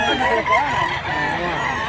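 A white rooster in Mantalungon, Barili, Cebu crows nearby, loud and wavering, with a drawn-out call filling the short moment and faint background murmur beneath it.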